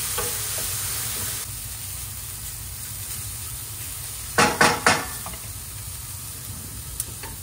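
Vegetables pre-cooking in a pan for a Chicago deep dish pizza, a steady sizzle and hiss with a few sharp stirring scrapes near the end.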